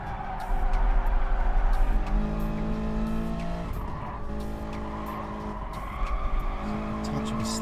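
Tyres skid and squeal through a slide in a Toyota race car in a racing video game at the Nürburgring, steady engine drone beneath sustained tonal squeal bands, loud and close, with a voice talking over it.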